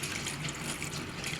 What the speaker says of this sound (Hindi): तो अब मैं इसमें पानी शामिल करूँगा तकरीबन